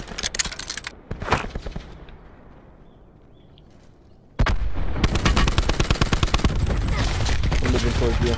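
Gunfire in the video game Blackout, a shotgun among other weapons, with sharp single shots early, a quieter lull, then a loud sustained burst of rapid fire; voices are likely mixed in.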